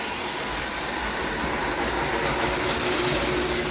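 A model work train rolls steadily along its track, a continuous close rumble with light wheel clatter, no voices over it.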